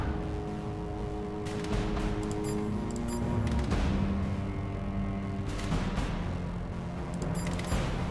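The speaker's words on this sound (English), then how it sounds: "Let's fire the two light ACs." Two light autocannons fire in the video game Roguepoint, a dense, rattling volley of repeated shots rumbling on and off for several seconds, fairly quiet in the mix, with no talking.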